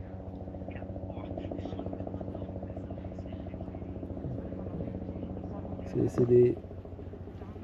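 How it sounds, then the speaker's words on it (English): A low, steady helicopter drone fills the background throughout at Uluru, with soft voices talking over it close by. "the helicopter coming now?"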